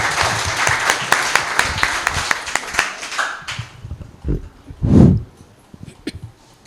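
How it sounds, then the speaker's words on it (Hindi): Scattered welcoming claps from a small audience at an International Museum Day lecture greet the speaker, fading after about three seconds into a few thumps and a microphone bump. "एक बार स्वागत में तालियां बजाएं।"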